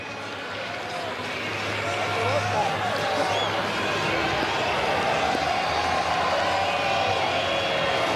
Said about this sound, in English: He's getting a big round of applause, Andre Nell, as he walks back towards the well-populated area at third man